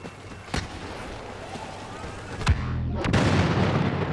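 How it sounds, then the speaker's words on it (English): Explosions in the video game Star Wars Battlefront, several sharp booms spaced across the clip with a louder blast near the middle followed by a rumbling roar and continuous battle noise underneath. "Dang, a lot of people are exploding"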